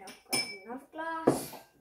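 A drinking glass is set down on a surface, making a bright clink that rings briefly near the end, with a person talking around it.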